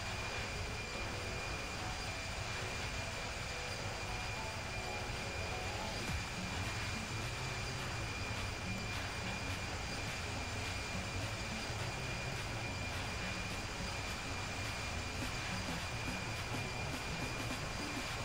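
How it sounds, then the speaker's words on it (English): A Caribbean Airlines 737-800 in the Infinite Flight game drones through a steady, even engine roar with a faint high whine, constant and unbroken throughout. "We're flying the 737-800 by Caribbean Airlines."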